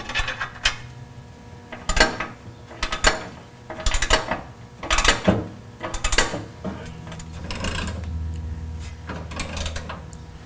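Carriage bolts and lock nuts being tightened on a 5th-gen 4Runner skid plate make bursts of rapid ratchet clicking, several short runs close up with metallic clinks between, then a quieter steady stretch at the end.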